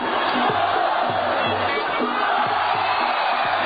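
A Muay Thai fight crowd roars continuously at close range, a dense wall of cheering and shouting voices with rhythmic chanting swells pulsing through it.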